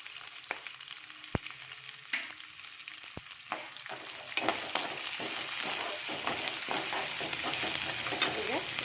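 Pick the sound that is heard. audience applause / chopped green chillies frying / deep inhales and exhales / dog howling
chopped green chillies frying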